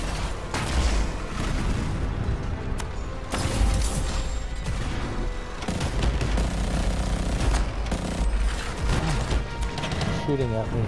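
Rapid gunfire from enemies aimed at the player in the video game Anthem, dense bursts and booms stacked over busy combat music and effects, continuous and loud throughout.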